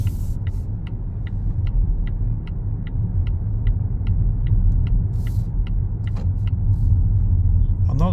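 A MY22.5 Volvo V90 T6 AWD plug-in hybrid drives through city streets, heard as a steady low cabin rumble throughout, with a regular soft ticking like an indicator repeating about twice a second.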